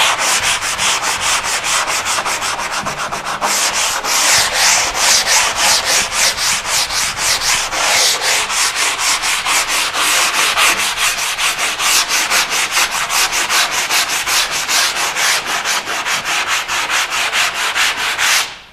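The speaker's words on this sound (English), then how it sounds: "give it a light sanding" Drywall mud on an inside corner is sanded by hand in steady, rapid back-and-forth strokes, a continuous close scratchy rubbing with no speech.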